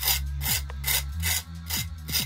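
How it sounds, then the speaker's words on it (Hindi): Crispy grilled cheese and tomato toastie being crunched, a series of rasping, crackling crunches in a loose rhythm, close and fairly clear with no talk. "इस तरह की आवाज़ आनी चाहिए टोस्टी में, ये सोगी नहीं होना चाहिए।"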